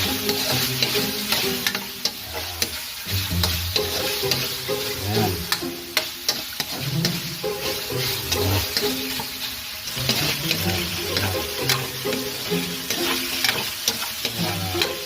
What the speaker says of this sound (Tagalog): Yan guys, stir fry na.